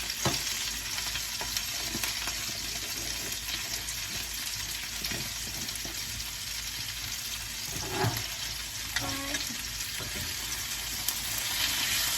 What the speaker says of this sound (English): Our skillet potatoes cooking.